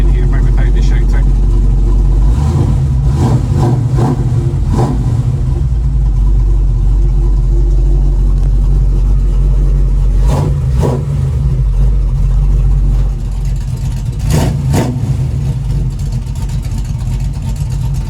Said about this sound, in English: Obviously, the exhaust is really loud